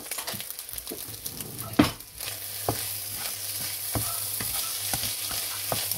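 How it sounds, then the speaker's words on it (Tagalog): Black rice being stirred in a pan with ham, a soft continuous sizzle under repeated scraping and tapping of a spatula against the pan, close and steady. "Haluin lang natin."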